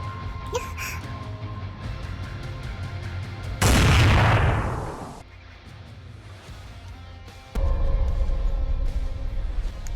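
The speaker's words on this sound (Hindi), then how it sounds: "जब भी तुम्हारी और मेरी शादी होती है गोलियां चली जाती है" Over a low background murmur, a sudden loud gunshot-like blast rings out and fades over a second or so before the ambience resumes.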